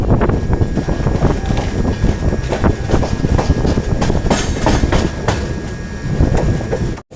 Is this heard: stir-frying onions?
no